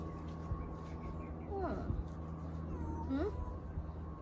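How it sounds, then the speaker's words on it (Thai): Stray cats meowing near an outdoor backyard meal table, two drawn-out rising meows a couple of seconds apart, fairly close, over a steady background hum with soft talk around. "ตอนนี้มีแมวจรจัดเยอะมากเลยนะคะ"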